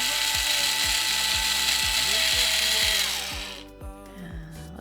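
A screwdriver ratchet clicks in a steady rhythm, about one click every third of a second, close and loud over a bright whirring hiss while fixing a diamond painting pen's broken multi-placer; the hiss stops near the end, leaving faint ringing tones.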